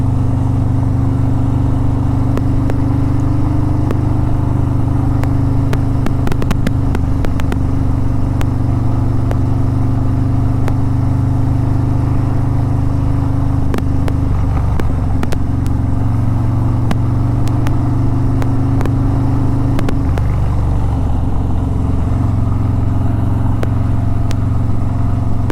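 Harley-Davidson Road Glide motorcycle on the road: the engine holds a loud, steady low throb, mixed with wind buffeting and small shifts in pitch as the throttle changes. Nobody talks.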